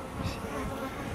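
Honeybees buzz around an open hive, a steady layered drone of many wings close by, continuous and fairly soft, with no talking.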